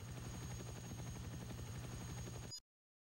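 An enemy helicopter with a failing engine in Streets of Rage Remake gives off a rapid, even rotor chop at steady volume, then cuts off abruptly into silence.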